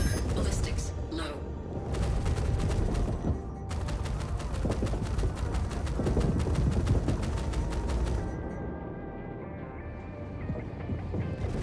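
Ballistic cannons fire rapidly in Star Citizen space combat from an Anvil F8C Lightning heavy fighter, a dense continuous stream of loud shots over ship rumble, with a voice talking over it.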